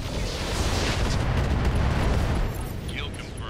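Mech weapons fire in RogueTech, a BattleTech game, as a heavy, rumbling barrage of booms and blasts that rolls for a few seconds and then fades, with a voice talking over it.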